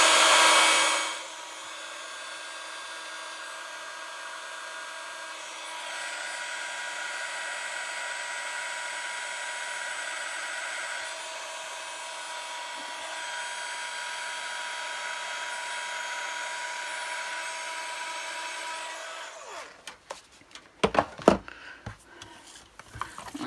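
A card-making heat tool blows with a steady, loud whirring hiss that runs unbroken for about twenty seconds, then cuts off and gives way to a few clattering knocks.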